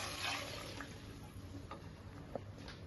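Coconut milk pressed from half a coconut is poured into a pot of rice, giving a soft, steady liquid trickle and splash heard close up, with no talking.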